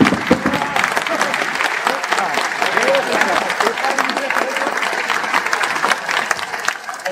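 An audience at a political party members' day bursts into sustained, dense applause across a large hall, with cheering voices mixed into the steady clapping.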